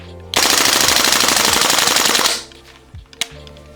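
GHK AUG A2 gas airsoft rifle firing one loud, close burst on full auto for about two seconds, a fast, even rattle of shots, followed by a few faint mechanical clicks.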